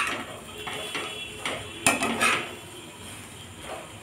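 A spoon stirs pasta and masala spice mix in a metal pan, with scattered scraping knocks and clinks close by, louder at a couple of moments, over a faint background.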